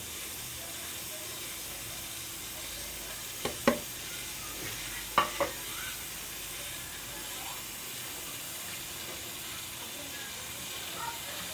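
Tamarind chutney simmers in a pan with a steady soft hiss of bubbling, broken by a few light scraping stirs of a spoon, faint and continuous throughout.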